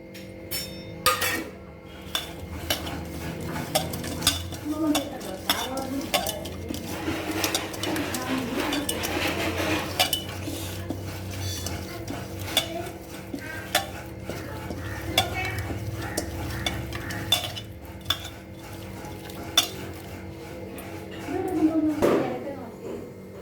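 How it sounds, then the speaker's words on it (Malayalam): Prawns tossed with salt and spices in a bowl, a soft wet stirring and scraping that runs steadily, with occasional light clinks, while a person talks over it. "ചെമ്മീനും മിക്സ് ചെയ്യുകയാണ്."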